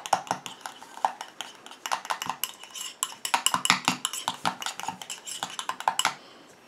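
A small utensil mixes cream with drops of bay laurel essential oil in a dish, giving rapid close clicking and scraping taps in a busy irregular rhythm that stops abruptly near the end.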